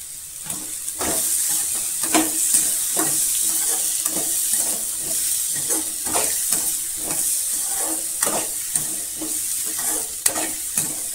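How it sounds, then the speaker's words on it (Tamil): Tomato and radish sautéing in a pan for spicy radish chutney, a steady close sizzle with repeated scraping stirs at a regular rhythm, no voices. "நல்லா வதங்கி வரணுங்க தக்காளி"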